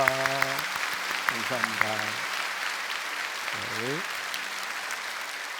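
A church congregation applauds after a worship service, a continuous patter of clapping held under a voice speaking briefly over it, then fading to a softer crowd hum.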